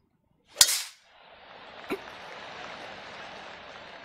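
A golf club striking a ball in the video game PGA 2K23: one sharp, loud crack, then a softer click and a steady hiss of ambient course background.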